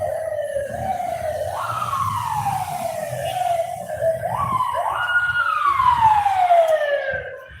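An ambulance siren wails on a city street in El Centro, Medellín, Colombia, rising and falling loudly over a low rumble of street traffic.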